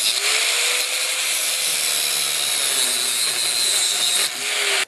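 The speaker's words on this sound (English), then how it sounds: "once you've cut it with the grinder" An angle grinder cutting through a seized roll pin on a snowblower impeller shaft, a continuous loud high-pitched whine and grinding roar, close by, briefly dipping near the end.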